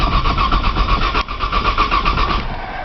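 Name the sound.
car engine cranking on a cold start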